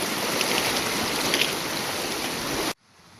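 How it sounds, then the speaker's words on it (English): Cold mountain creek with good flow rushing past during a hiker's crossing on the High Sierra Trail in July: a steady, loud broadband wash of water that cuts off abruptly near the end, no talking. "creek crossing with some good flow"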